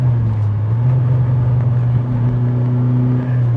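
BMW M3 E30 Sport Evolution race-bred engine held at steady high revs during a heel-and-toe downshift, a loud, continuous close-up drone with a brief rise in pitch partway through.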